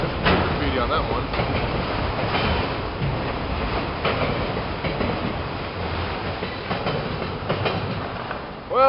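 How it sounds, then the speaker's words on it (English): Freight train with Canadian Pacific and graffiti-marked cars rolling past at close range, a steady broadband rumble with clickety-clack from the wheels continuing throughout. "And here's the end of this train."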